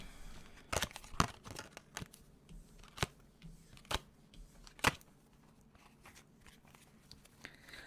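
A deck of tarot cards is being shuffled by hand, giving quiet, irregular crisp snaps and riffles with soft rustling between them.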